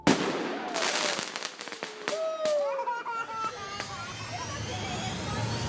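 Sharp firework bangs and crackles pop out over a busy outdoor background, with whistling streaks and people talking throughout.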